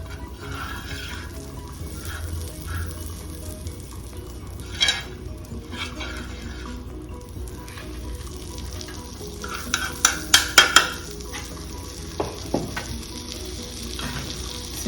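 Butter sizzles steadily on a hot pan for pav bhaji, a continuous close frying hiss broken by a few sharp metallic clinks and taps near the end.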